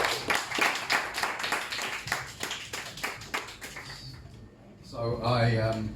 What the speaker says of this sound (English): can I have a massive round of applause for Sham?